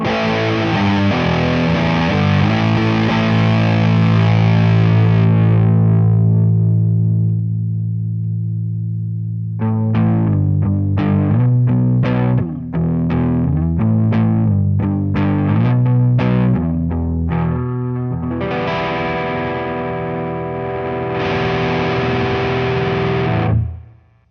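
Electric guitar through BOSS MS-3 drive effects such as Governor, Distortion Plus and Metal Zone: a loud, ringing distorted chord fades out, then tight chugging staccato notes and a final sustained roaring chord, with no talk.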